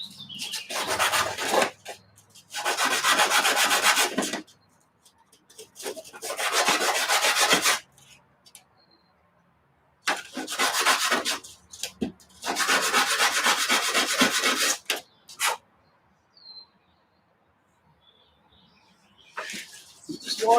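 Engine washers and nuts from a buggy engine rebuild being scrubbed clean, heard as loud, close bursts of harsh rasping rubbing lasting a few seconds each, separated by short quiet pauses, with no talk.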